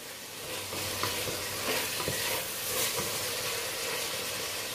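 Chicken breast and peppers fry in a hot pan while being stirred, producing a loud, steady sizzle. Occasional clinks and scrapes of the utensil rise above the frying, with no talk.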